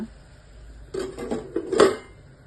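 A metal lid is set onto a pan of brinjal curry, giving a few close clinks and rattles in quick succession before it settles, with no talk.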